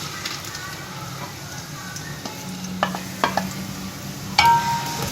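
Onions sizzling in hot mustard oil in a pan, a moderate steady fry with a few sharp spatula scrapes and clinks toward the end.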